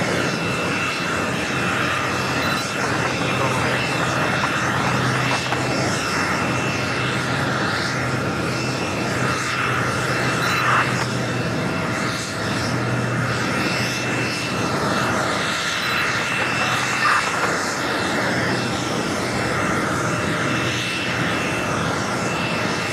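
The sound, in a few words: airplane taxiing at JFK airport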